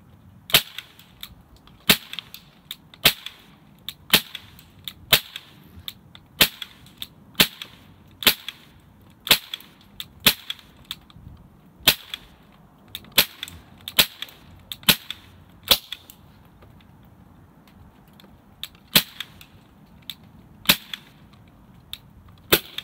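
Rifle shots fired at a target 10 yards away outdoors in snow, a long series of sharp, loud cracks at irregular intervals, sometimes in quick pairs, with no talking.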